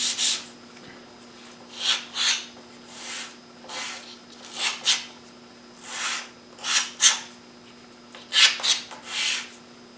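Light, slow sanding strokes along the front edge of a segmented wooden egg, soft rubbing passes repeating at an uneven pace over a faint steady hum, close by and without speech.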